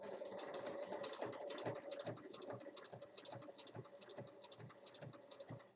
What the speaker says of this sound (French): Et ensuite, je pique à 1 mm.